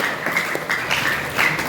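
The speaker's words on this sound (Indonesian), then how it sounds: "tepuk tangan dulu buat kita semuanya" A school farewell gathering breaks into applause, a steady crackle of many hands clapping at moderate distance, even and sustained, with a few brighter accents rising above the crowd noise.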